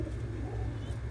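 Pet birds, a group that includes long-necked doves, cooing softly and steadily at close range with low repeated calls and no talk over them.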